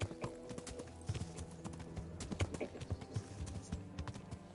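Horse hooves clip-clop in a quick, uneven rhythm on a path in Kingdom Come: Deliverance, fairly close and clear, with a faint whinny mixed in and no talking over it.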